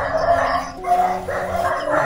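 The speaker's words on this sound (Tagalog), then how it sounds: "Ay, may mga aso pa kasi dito." Dogs barking near an abandoned goat pen during an outdoor exploration, several sharp barks at moderate distance with a rooster-like tonal call mixed in, no talk.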